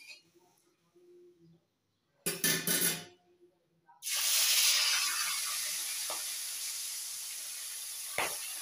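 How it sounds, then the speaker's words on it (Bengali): Fish hit hot oil in a wok, erupting into a loud, sustained hiss and sizzle that settles into steady frying, after a brief burst of clatter beforehand. "এখন আমি মাছগুলো ভেজে নেবো"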